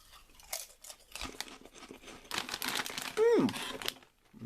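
Crisps from Japan being eaten, with several close, quiet crunching bites and crinkling packet sounds scattered across a short stretch, with a brief vocal sound partway through.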